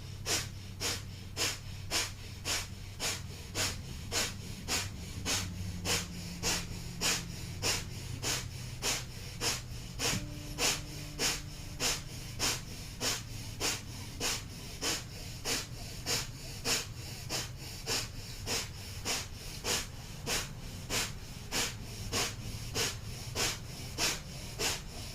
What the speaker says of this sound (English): we're going to come into breath of fire here for a minute